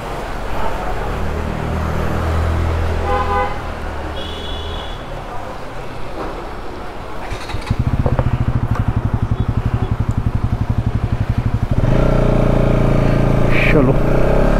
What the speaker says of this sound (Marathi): गाड्या पण आहेत सगळं पाठोपाठ.